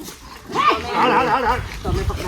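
A village dog on a cold rural road gives a few yelping, whining barks close by, mixed with people talking loudly over it and general outdoor background noise.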